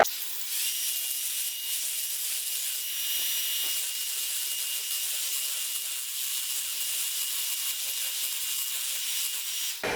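An electric mixer beats eggs on high, giving a continuous, even whir with a hissy edge that runs unbroken for the whole stretch, with no talking.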